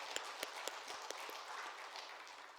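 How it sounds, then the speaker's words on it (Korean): Applause rises from a congregation at a Friday night healing service in a Korean church. The clapping is faint and distant, a soft, continuous patter with a few sharper claps standing out. "하나님께 감사의 영광의 박수를 올려드리겠습니다"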